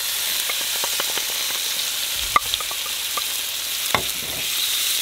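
Tamarind chilli sauce ingredients fry in hot sesame oil in a pan, giving a steady bright sizzle with a few sharp clinks and scrapes of stirring, close and alone with no talk.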